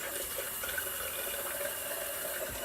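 Tap water runs steadily into a sink while a shaving lather bowl is topped up, a continuous close hiss of flowing water with no talk.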